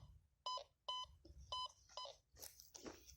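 Metal detector signal on a field search: four quick electronic beeps, close and distinct, followed by scraping and crunching of soil or handling noise.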